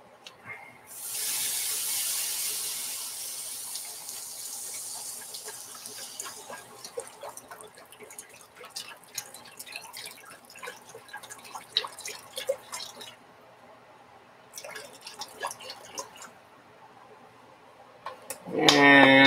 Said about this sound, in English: about 3 cups of beef broth coming in